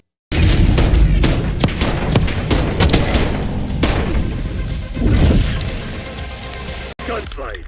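Gunfight in a video game: a dense run of loud booming shots and thuds, close and continuous, with a player talking over it.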